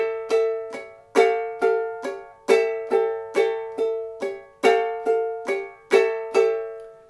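Ukulele strumming an A seventh chord in a vintage-style pattern with a pinky slide and split strokes, bright plucked strums in a steady rhythm of about a dozen accented hits, close and clear with no voices.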